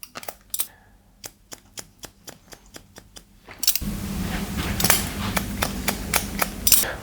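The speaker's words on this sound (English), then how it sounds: "I'll just point cut into that as well" Hair scissors point cut into a fringe during a men's taper haircut, giving a series of sharp, crisp snips in a quick irregular rhythm. The room noise grows louder halfway through, and the snipping carries on over it.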